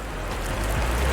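Rain falling steadily in a soft, even wash of hiss, quiet and continuous for a brief moment, with no voices.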